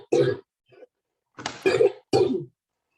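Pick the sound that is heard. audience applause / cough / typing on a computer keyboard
cough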